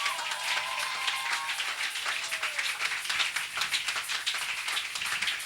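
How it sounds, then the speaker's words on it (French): A church congregation applauds the Holy Spirit, sustained dense clapping from many hands filling the room at a steady level, with a brief faint voice or tone drifting underneath early on. "J'aime qu'on applaudisse le Saint-Esprit."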